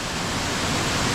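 Nam Muang 2 waterfall roars as a dense, unbroken wash of white water, loud and constant throughout with no voices.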